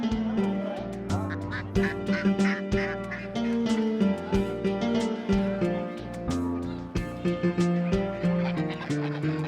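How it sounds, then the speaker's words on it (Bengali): Ducks quack in a dense, overlapping chorus at Salanga haat, a busy livestock market in Sirajganj where pairs of local ducks and geese are sold; the calls are loud and continuous, with steady crowd noise underneath. "প্রায় সারা বছরই হাঁস পাওয়া যায় এই হাটে"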